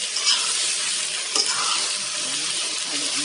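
A pancit bihon mixture is stirred in a pan with a soft sizzle and brief scraping of a utensil, heard up close for a few seconds.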